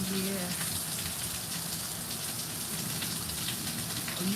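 Steady rain pours outdoors, a dense, even hiss with no breaks and no rise or fall, while faint tones and a murmur sit low beneath it.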